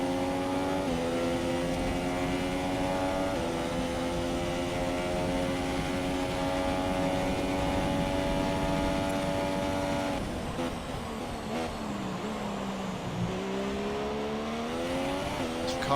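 An F1 race car in the F1 2017 game at the USA round screams at high revs, its steady whine shifting pitch through gear changes and throttle lifts, loud and continuous with no voices.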